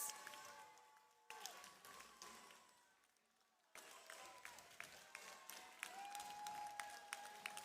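Audience at a district event bursts into applause in waves, sustained crowd clapping that fades, breaks off, then returns stronger with scattered cheers and a voice faintly underneath.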